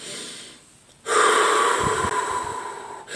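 A person takes a deep, loud inhalation through the nose and mouth during a wave breathing exercise, following a faint exhale, the breath rushing close and steady for about two seconds.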